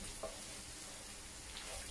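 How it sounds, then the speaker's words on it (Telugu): Spice powder fries in hot oil in a pan for a stuffed brinjal curry, a faint, steady, soft sizzle with light stirring and no talk over it. "బాగా వేయించుకోవాలి, కలుపుకోవాలి."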